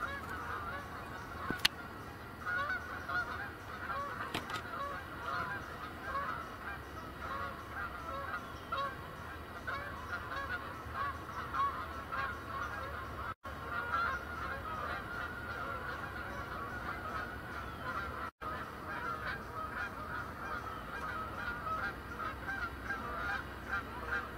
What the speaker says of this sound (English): Wait, I'm hearing geese now.